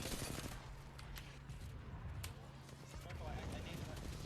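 Gunfire from a first-person shooter video game, with dense bursts of shots and scattered single cracks over a steady loud game soundscape, with a voice talking over it.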